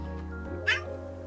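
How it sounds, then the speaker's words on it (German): A kitten in the cozy cat-café game Calico gives a single short, high meow over a steady hum of game music. "hier haben wir schon ein Kätzchen"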